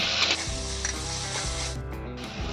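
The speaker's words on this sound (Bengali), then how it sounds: "এখন আমি তিল আর কাঁচা লঙ্কা যে বেটে রেখেছিলাম এটা আমি তেলের মধ্যে দিয়ে দেবো।" Paste of ground sesame and green chili hitting hot oil in a pan, a loud steady sizzle with stirring scrapes over about two and a half seconds, close up, with no talking.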